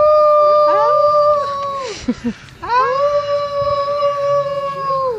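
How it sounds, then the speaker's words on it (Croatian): Long, sustained howls of wolves at a zoo in Jagodina, Serbia, with rising and falling pitch, several voices overlapping, fairly close, with a short break in the middle before the howling resumes. "Evo su vukovi"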